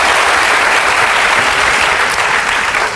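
A church congregation applauds the praise and worship team, loud, dense clapping filling the room steadily for a few seconds before easing slightly at the end.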